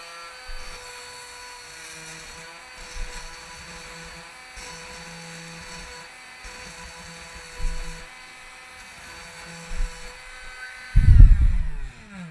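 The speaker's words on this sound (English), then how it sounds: "I'm going to show you how the dressing stone cleans that up." A dressing stone is held against a spinning sharpening stone on an Edgetune Pro II sharpener to clean and flatten it. A steady, high motor whine runs throughout, with a heavier rumbling grind swelling near the end.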